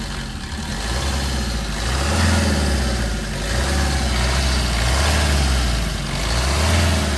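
A 2017 Maruti S-Cross diesel idles with a steady, close, low clattering rumble that swells gently a few times, with no talking.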